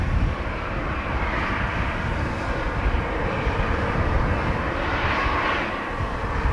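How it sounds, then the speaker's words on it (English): A Lufthansa airliner bound for Munich takes off from Amsterdam Schiphol on a windy day, its jet engines producing a steady, loud, broadband roar that holds without a break, with no voices. "Lufthansa to Munich, flight 2303. Now taking off."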